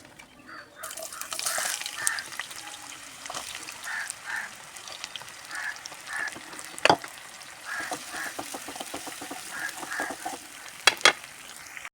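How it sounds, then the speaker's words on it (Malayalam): Steady sizzling of onions frying in hot oil, with occasional stirring scrapes and clinks over the crackle. "നന്നായി ചൂടായി വന്നതിൻ്റെ ശേഷം നമുക്ക് വലിയ ഉള്ളി ഇട്ട് കൊടുക്കുക"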